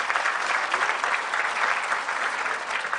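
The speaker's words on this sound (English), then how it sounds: "So I want to give Josh a big round of applause for bringing us out here." A crowd at a swimming symposium gives a sustained round of applause, dense and even from start to finish.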